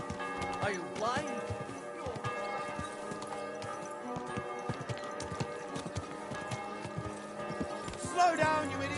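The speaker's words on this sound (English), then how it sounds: "Easy, good horse." Horse hooves clip-clop steadily at close range in the medieval video game Kingdom Come: Deliverance II, with in-game music underneath and character voices talking over the hooves.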